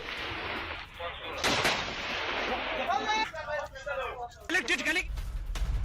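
Heavy booming rocket blasts and bursts of gunfire crack repeatedly along the Durand Line overnight, loud and sharp, mixed with a voice talking over them.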